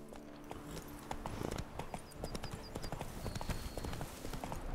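Horse hooves clip-clopping steadily in The Witcher 3: Blood and Wine as the character rides, a quick even rhythm of close hoofbeats over ambient game sound.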